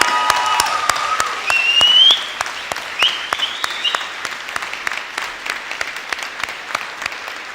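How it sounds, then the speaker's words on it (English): A graduation audience at a large venue breaks into applause, the clapping swelling loudly for a couple of seconds, then thinning into scattered claps with a few cheers and whistles over it. "I think we should start by giving yourselves a massive round of applause."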